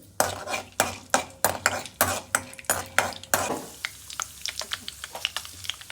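Chana dal dropped into a spoonful of hot oil in a pan, sizzling and frying while being stirred, with a steady run of sharp scraping stirs up close that turn into lighter, quicker clinks and crackles.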